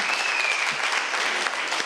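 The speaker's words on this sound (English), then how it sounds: "Comrades, let's give Comrade DG another huge round of applause." Loud, continuous applause from a large audience at a union provincial conference gala dinner, a dense even wash of clapping with a faint whistle near the start.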